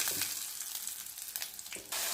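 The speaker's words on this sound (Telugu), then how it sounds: "పప్పుకి ఇలా ప్యాన్ పెట్టుకున్నాను ఆవాలు రెండు మెంతి గింజలు జీలకర్ర ఇంగువ పోపు" Mustard seeds, fenugreek seeds, cumin seeds and asafoetida sizzle in hot oil in a pan as tempering for dal, a steady close crackle with a few stirring scrapes and a sharper burst near the end.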